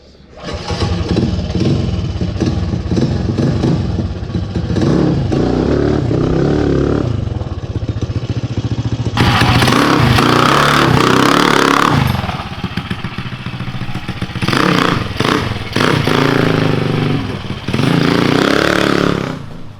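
A Trail Master MB200 mini bike engine revs hard and pulls away close by, a loud buzzing small-engine roar that surges and dips with throttle changes.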